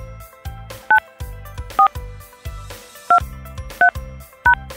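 Telephone keypad presses on a voicemail system produce five short, sharp dual-tone beeps at irregular intervals, cutting loudly through a pulsing low backing loop.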